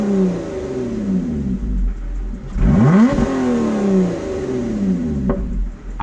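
A parked Lotus Exige S3 350HP sports car engine revving, rising in a couple of sharp bursts over a steady idle, loud and close with no talk.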